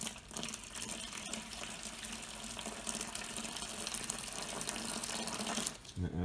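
Water gushes steadily into a bucket for several seconds while mixing grout, a loud continuous rushing pour that cuts off abruptly near the end.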